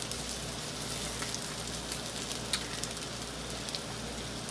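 Salmon patties frying in a pan, a steady close crackling sizzle with fine popping spatter running evenly throughout, no voices.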